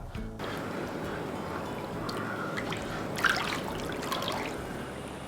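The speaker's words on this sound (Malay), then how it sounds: "Dan kita masukkan air rebusan daging dan udang tadi. Biarkan dia menggelegak." Meat and prawn broth coming to a boil in a pot, a steady bubbling and trickling liquid sound with a brief clatter partway through, fairly close and continuous.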